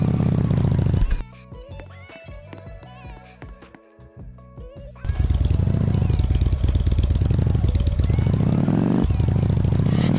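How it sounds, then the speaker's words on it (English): A quad bike engine idles loudly in a Roblox game, a steady rumbling drone joined by background music and talk at the start and end. "here's my quad bike. It's super loud,"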